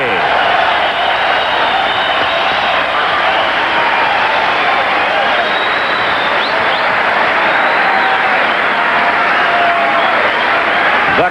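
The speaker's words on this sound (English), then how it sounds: "The crowd roaring from that one" A boxing arena crowd at the 1988 US Olympic Boxing Trials roars and applauds loudly and steadily, a thick sustained wall of cheering and clapping.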